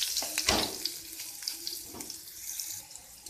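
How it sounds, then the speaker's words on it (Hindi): Green chili, garlic and cumin powder frying in hot oil for a radish-leaf bhaji, giving a steady broadband sizzle with a louder burst near the start that then settles and fades slightly. "तेल गरम हो चुका है, इसमें हम डाल देंगे हरी मिर्च, लहसुन और जीरा पाउडर।"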